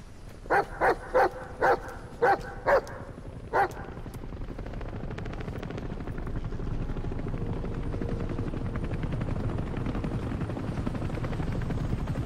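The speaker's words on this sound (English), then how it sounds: "Who the hell is coming on the chopper?" A helicopter in Metal Gear Solid V approaches with a steady, growing rotor thump that builds and fills the scene, following a series of six loud barking dogs at the start.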